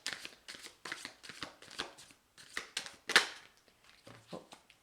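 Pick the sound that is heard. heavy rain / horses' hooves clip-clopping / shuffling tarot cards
shuffling tarot cards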